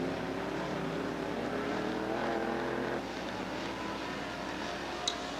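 Race cars on the track at Southern Oregon Speedway roar past as a dense, sustained engine drone heard from some distance, with the pitch shifting as the pack circulates.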